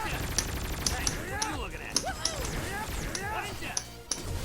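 Rocket Raccoon fires his weapons in the Marvel vs. Capcom Infinite fighting game, with a rapid series of sharp gunshot and impact sounds over busy game effects and background music.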